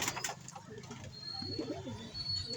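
Pigeons coo in a loft kept by a fancier, a low soft burbling coo rising near the middle amid faint bird chirps and light background noise.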